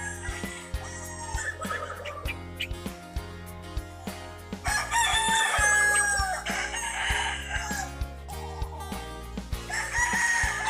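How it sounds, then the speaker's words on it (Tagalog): Roosters crow loudly over a busy mix of clucking hens being given water and other farmyard noise, with several overlapping calls close by. "pinapainom yung mga manok."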